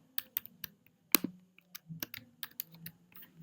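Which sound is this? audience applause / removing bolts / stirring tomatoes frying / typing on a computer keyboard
typing on a computer keyboard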